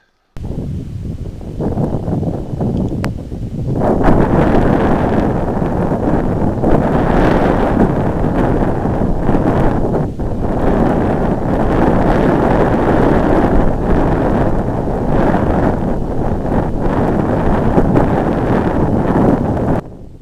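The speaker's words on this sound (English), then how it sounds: "here on the high ground the wind is just howling" Wind howling across exposed high ground, a loud, steady roaring buffet against the microphone that rises after a few seconds and persists with gusty fluctuations.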